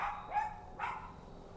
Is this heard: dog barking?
yes